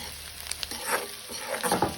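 Turmeric, coriander-cumin powder, salt and chilli powder being stirred and fried in a pan, with a soft, steady sizzle and occasional scraping stir strokes, close and fairly quiet, with no voices.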